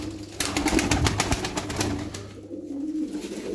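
Pigeons coo softly nearby in low, throaty repeated calls, with a flurry of wing flaps and rustling at the start.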